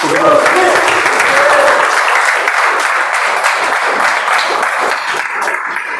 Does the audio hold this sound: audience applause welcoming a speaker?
yes